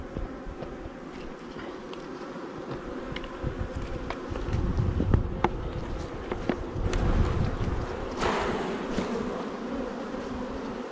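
Honeybees buzz densely over a hive frame covered in queen cells during a colony inspection, a steady close swarm hum that swells louder midway, with brief wind rumble on the microphone.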